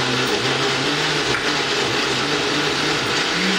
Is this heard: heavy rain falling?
no